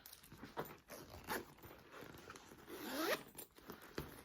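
A zipper on a handmade Goldylocks crossbody bag is pulled in several short rasping strokes, ending in a longer, louder zip near the end, close and clear with no talking.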